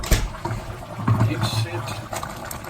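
Mutton karahi bubbling and sizzling in an opened pot, with liquid gurgles under a voice talking nearby.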